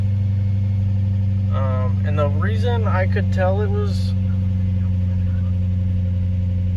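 A second-generation Lexus GS430 engine idles steadily with a low, constant hum while someone talks over it for a few seconds.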